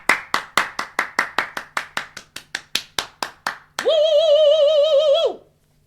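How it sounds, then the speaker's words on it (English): Sharp hand claps come in a steady, even rhythm, about seventeen of them, close and crisp. A long, sustained vocal whoop follows and then cuts off into quiet. "Clap it up again for my girl."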